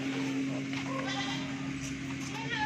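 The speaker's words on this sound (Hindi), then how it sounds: "ये देखिए माशाल्लाह खूबसूरत बकरी है।" Rajanpuri goats, some with kids, in a Pakistani livestock sale setting, bleating faintly amid steady background noise and a low electrical hum, with voices murmuring nearby.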